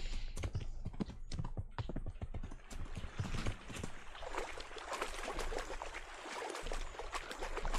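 Clip-clopping horse hooves in the medieval role-playing game Kingdom Come: Deliverance, a quick irregular patter of hoofbeats running through the game's ambient sound at moderate loudness.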